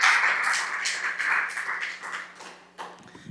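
Church congregation applause welcoming a young man to the front, a short burst of hand clapping that thins out and stops after about three seconds, heard without speech.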